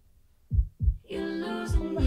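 Heartbeat sound effect in a pop song: two deep, thumping beats land alone, then music with singing enters while the low pulse keeps throbbing beneath it.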